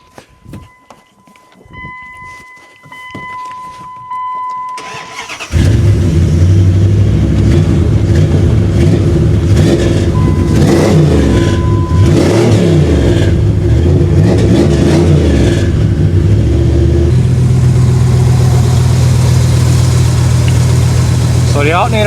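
An old truck engine cranks and catches, then runs loud and close with repeated revving surges before settling into a rougher idle, after a quieter stretch of faint tones and rustling.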